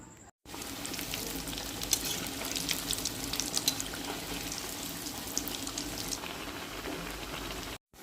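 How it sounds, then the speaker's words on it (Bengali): Chicken chops or cutlets frying in oil in a pan, a steady close crackling sizzle with bubbling that holds evenly throughout, with brief cuts at the start and end. "চলুন চিকেন চপ বা কাটলেট ভেজে নিই"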